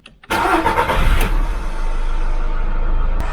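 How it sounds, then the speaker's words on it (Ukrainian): A Skoda Fabia engine cranks and catches at once from cold, then settles into a steady, loud idle with a low rumble that continues to the end. "Вмикаємо запалення"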